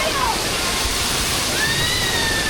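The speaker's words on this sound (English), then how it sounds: "we're running through this water" Loud, steady rush of splashing, cascading water fills the whole stretch at LEGOLAND Florida Water Park, with voices faintly mixed in beneath the spray.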